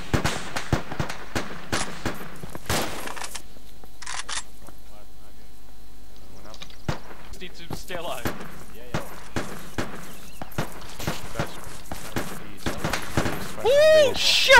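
Heavy gunfire erupts in a military video game set in Sangin, with dense volleys of sharp, loud close shots and bursts spread across the whole stretch, voices talking between them.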